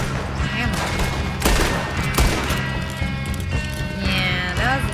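Gunfire crackles through a chaotic Red Dead Redemption fight, several sharp shots scattered over busy game noise, with a voice talking over it.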